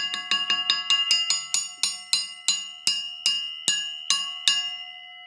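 A Honda CX 500 brake disc struck about a dozen times in a steady rhythm, each hit a bright metallic clang with clear ringing overtones and a long decaying sustain, close and alone.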